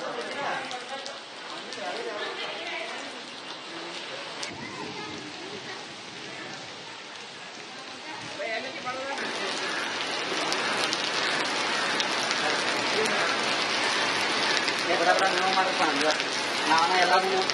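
Heavy monsoon rain pours down in Belagavi, a dense steady hiss that swells louder in the second half, with a voice heard faintly beneath the downpour.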